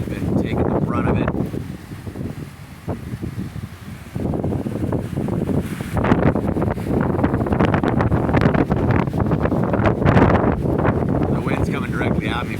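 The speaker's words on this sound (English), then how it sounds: "The wind's coming directly at me from the east." Strong hurricane wind from Hurricane Kay roars and buffets the microphone in heavy gusts around a tree on a corner, with a person talking under it.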